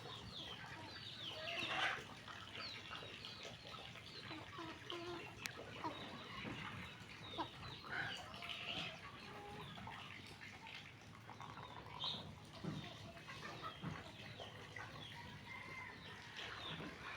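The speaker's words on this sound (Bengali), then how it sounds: "তো সকাল সকাল মুরগিগুলোকে ছেড়ে খাবার দিলাম" Free-ranging backyard chickens cluck softly and steadily while pecking at scattered food in the morning, with scattered sharper calls from hens and chicks, close and moderately quiet, with no talking.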